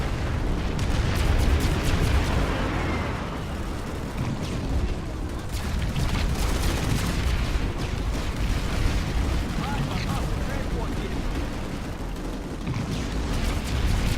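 Dense, continuous explosions and booms from the shooter game Planetside fill the mix, loud and layered with rumbling impacts and bursts, while a game voice announces events over them.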